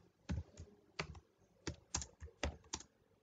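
Computer keyboard keys clatter in irregular bursts of quick taps with short pauses, close and fairly soft, while C++ code is typed; nobody speaks.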